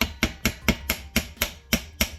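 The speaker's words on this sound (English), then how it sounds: "Sometimes a little persuasion with the hammer might be needed." Nine sharp metallic hammer taps in a steady rhythm, tapping a limited-slip differential for a Honda into place, close and moderately loud, with no voices.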